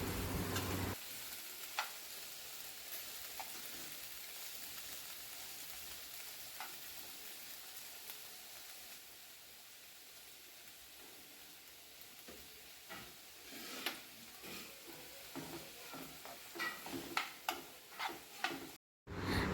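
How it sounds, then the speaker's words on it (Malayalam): Onions sautéing in a home kitchen pan give a soft, continuous sizzle, with scattered scraping and clicking stirring strokes growing more frequent toward the end, and no talking. "അമ്മ സവാള വഴറ്റിക്കൊണ്ടിരിക്കുകയാണ്"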